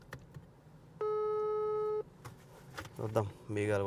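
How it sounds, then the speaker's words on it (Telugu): One steady ringback tone sounds for about a second on an unanswered phone call, and a person starts talking right after it. "ఫోన్ కూడా ఎత్తడమ్మా."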